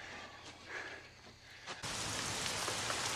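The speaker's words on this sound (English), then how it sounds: "I like the rain." Steady rain falls throughout, a soft patter at first that swells abruptly into a dense, loud downpour partway through, with no voices.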